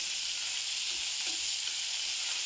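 Onions with added salt frying in a pan for a dry bitter gourd bhaji, a dense, even, loud hiss of sizzling oil throughout, with no talking.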